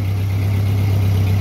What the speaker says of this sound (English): I have the multimeter set back up on the tractor with it running